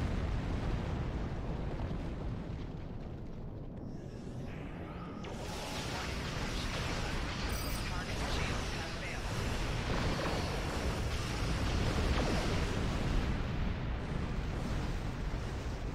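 Photon torpedo explosions in the space combat game Star Trek Online, a loud, continuous barrage of heavy booming blasts and rumbling bursts that swells around the middle, with a voice talking over the din.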